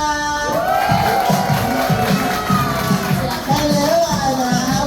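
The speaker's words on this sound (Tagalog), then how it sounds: "Itodo niyo ang palakpakan na may kasamang hiyawan" Party crowd at a child's birthday celebration cheering and shouting, with rhythmic clapping and a host's voice over the noise, loud and close.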